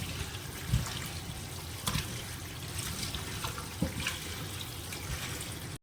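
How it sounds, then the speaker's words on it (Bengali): Cut taro pieces being washed in water for a Bengali fried taro snack: continuous splashing and trickling with a few sharper sloshes and knocks as the pieces are rinsed, close and fairly quiet. "কচুগুলোকে ভালো করে ধুয়ে নিতে হবে"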